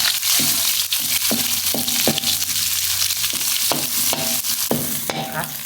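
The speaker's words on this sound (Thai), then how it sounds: "ผัดพริกแกงให้หอมก่อนนะคะ" Red curry paste is stir-fried in a pan for a spicy papaya and pork belly curry. A spatula scrapes across the pan in repeated rhythmic strokes over a constant close sizzle, with no talking.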